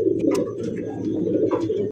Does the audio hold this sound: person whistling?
no